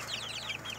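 A chicken gives a quick run of soft, high clucks, close by and fairly faint, with no talking.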